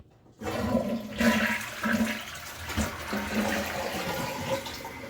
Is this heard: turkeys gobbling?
no